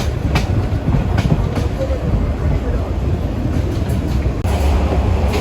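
Heard from inside a carriage, the Meghna Express travels from Chandpur to Chittagong with a loud, continuous rumble and faint clickety-clack of wheels on rails, its steady roar filling the space.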